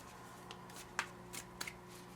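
Soft riffling and light tapping of tarot cards being shuffled close by, quiet and intermittent against a faint steady hum.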